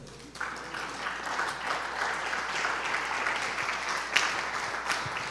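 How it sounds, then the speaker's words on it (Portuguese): A church congregation at a Pentecost celebration service applauds, a steady, even wash of clapping that sounds somewhat distant and fills the room for several seconds. "Fica de pé e aplauda o Senhor."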